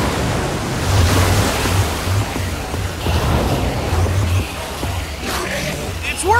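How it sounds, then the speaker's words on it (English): Water gushing from a machine in the video game Minecraft Story Mode, a loud continuous rushing, surf-like roar with voices speaking over it. "I don't know how much water this thing is going to kick out"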